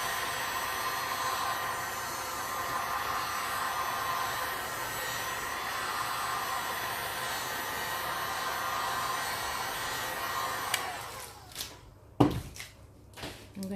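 A heat tool blows hot air steadily over fresh resin art pieces, a loud continuous rushing hiss for most of the span that cuts off near the end, leaving brief knocks and handling sounds.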